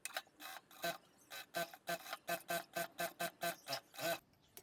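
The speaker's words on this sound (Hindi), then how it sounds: "अब इसको हम ऐसे पलट के यहाँ पे सिलाई कर देंगे।" A sewing machine stitches a waistband belt onto a pair of ladies' pants, running in short, evenly spaced bursts with brief pauses between them. The sound is close and steady, with no talking.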